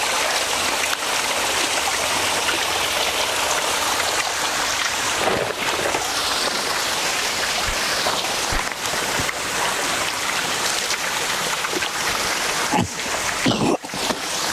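Spring water flows steadily at a koi farm, a continuous close rushing wash filling the whole stretch with a few brief splashy knocks.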